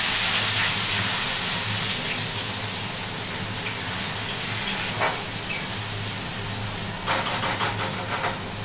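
Chopped onion fries in hot spiced oil, giving a loud, continuous hiss and sizzle with a few brief bursts of crackle, heard up close without any talking.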